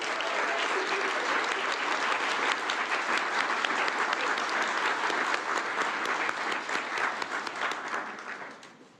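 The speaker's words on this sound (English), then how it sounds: "one round of applause for the entire class" Sustained applause from a graduation ceremony crowd honoring an occupational therapy class, dense and steady for about eight seconds before tapering off at the end.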